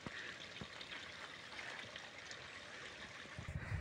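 A stream flows below a path in cold country, a steady broadband rush of water heard from some distance, faint and continuous with no talk.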